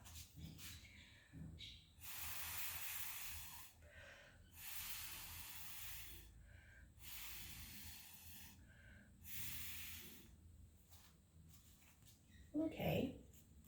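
Breath blown through a straw onto paint on a holiday ornament makes repeated soft, close hissing bursts of a second or two each, separated by short pauses, ending with a brief louder rustle.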